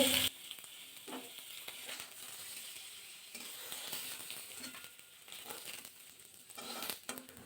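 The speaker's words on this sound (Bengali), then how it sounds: "বেগুনটা ভাজা করে নিই বেগুনের গায়ে কিন্তু একটা সুন্দর কালার চলে গেছে" Brinjal (eggplant) slices frying in hot oil, giving a steady sizzle with crackling bursts and soft scrapes throughout, with no voices.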